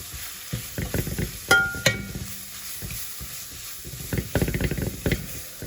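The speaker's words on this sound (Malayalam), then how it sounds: "ഇനി ഇതിലേക്ക് നമ്മൾ എടുത്തു വെച്ചിരിക്കുന്ന പൊടികൾ ഇട്ട് കൊടുക്കാം. ഈ പൊടികളെല്ലാം ഒന്ന് ഇളക്കി കൊടുക്കാം." Spice powders stirred into frying onions in a pan for a tapioca and chicken dish, with a low steady sizzle and irregular scraping, clinking stirs close by.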